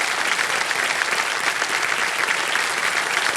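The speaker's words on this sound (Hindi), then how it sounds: "तालियां बज जाए इनके लिए।" A studio audience on the KBC quiz show breaks into continuous applause for a contestant, a thick, even roar of clapping with no pauses.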